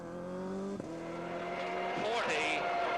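Subaru Impreza rally car on a wet stage at a WRC and Group A rally, engine note holding steady then dropping and rising again as the car works through the stage, loud and close, with a voice talking over it.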